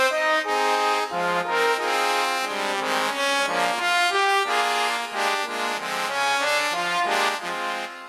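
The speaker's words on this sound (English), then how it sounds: "this is the sound this software produces" Big band arrangement played back through notation software, full ensemble of synthetic brass, reeds and rhythm section in dense sustained chords that move steadily with a constant, loud level and no talking.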